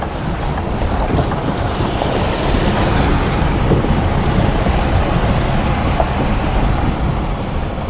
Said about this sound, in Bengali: জলের ফ্লোটা দেখো, সব জলের ফ্লোটা কিন্তু বেশ ভালো ফ্লো আছে